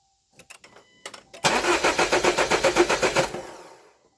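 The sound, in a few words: Jeep Compass engine being cranked over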